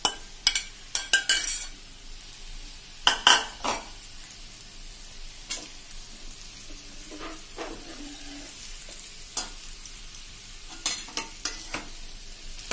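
Boiled potato pieces, about 500 grams, tossed and stirred in a pan for a Kathiawadi-style Punjabi samosa filling: scattered scrapes and clinks of a spoon against the pan over a faint low sizzle, with no talking.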